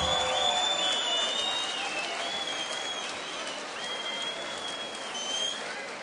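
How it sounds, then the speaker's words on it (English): A crowd at a fight event applauds the two fighters, dense, sustained clapping with some cheering and whistles that stays strong throughout. "give these two fighters a big round of applause"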